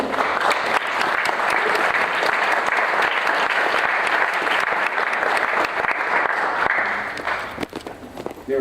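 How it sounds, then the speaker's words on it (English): An audience claps loudly and steadily for several seconds, dense applause filling the room, then thins out into scattered claps before a final few hand claps. "They were clapping for you."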